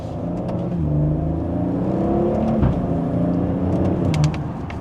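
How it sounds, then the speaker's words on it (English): A Maserati Ghibli V6 engine revs up and accelerates with a rising, throaty rumble, steady and fairly loud, heard from close by. "we'll do one last acceleration for today"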